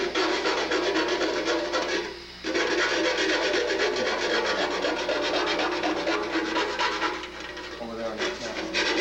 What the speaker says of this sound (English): you need either a rat tail file or a half round or quarter round file so that you can get it in here